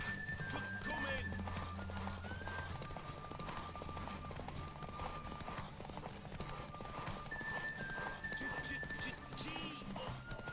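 Galloping horse Roach in The Witcher 3, steady rhythmic hoofbeats close up with a whinny, game music in the background and a voice heard alongside.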